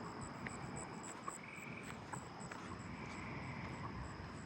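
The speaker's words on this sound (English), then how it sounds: "Southern ground crickets." Southern ground crickets trill steadily in a neighbourhood at night, a continuous high buzzing chorus with faint distant insect and frog calls underneath, no talking.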